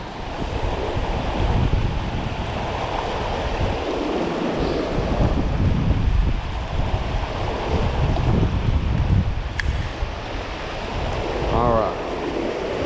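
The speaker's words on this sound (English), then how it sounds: "Daggone wind's blowing it out of the water." Gusty wind buffets the microphone beside the Williams River during a trout fishing trip, a steady broadband roar with rising and falling surges that runs the whole way through, loud and close.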